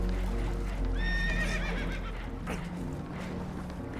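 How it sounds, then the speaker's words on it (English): A spooked horse in Red Dead Redemption 2 lets out a loud, shrill, quavering whinny aboard a damaged boat, one drawn-out neigh over a dense rumble of water and movement, with faint hoof clatter. "Horses are spooked"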